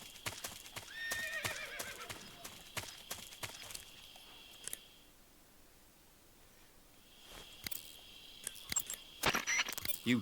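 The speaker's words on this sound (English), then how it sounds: "I know a horse when I hear one." In Metal Gear Solid 3, a horse whinnies loudly, hooves clip-clop and something jangles, then the sounds fade briefly before another burst of neighing and hoofbeats.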